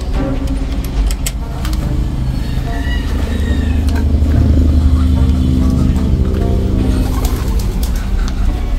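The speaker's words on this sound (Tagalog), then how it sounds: "Ito ice pigeon din to eh. Ice pigeon." Ice pigeons coo on a farm amid a busy, loud outdoor background with a steady engine-like hum, passing vehicle noise and occasional other bird calls.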